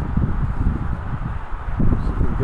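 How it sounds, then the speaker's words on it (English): Strong wind buffeting a microphone outdoors, a loud low rumbling roar that surges and dips over a few seconds, swelling again near the end. "Sorry about the wind, it's really windy today."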